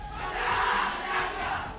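Team Todak fans roar in a cheering battle at the M3 World Championship 2021 in Singapore, a dense, sustained crowd shout swelling and holding loud for about two seconds with no single voice standing out.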